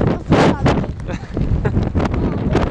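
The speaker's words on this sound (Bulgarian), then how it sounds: "Този вятър е направо ураган." Strong, gusty wind buffets the microphone at a lakeside campsite with caravans and vans, with flags flapping loudly in a continuous roaring rush.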